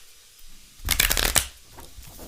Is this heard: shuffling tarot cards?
yes